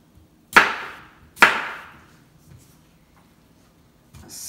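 A knife chops potatoes into cubes on a cutting board for a tomato chicken dish, with two sharp, loud chops about a second apart, followed by quieter scraping and a third softer knock.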